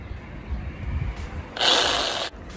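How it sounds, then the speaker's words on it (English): A power drill whirs loudly into wood in a short burst of about three-quarters of a second, after a stretch of low rumbling background noise. "we're about to drill some wood so I can cover the hole."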